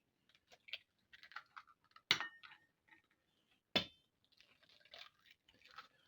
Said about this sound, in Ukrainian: і вбиваємо сюди наші яєчки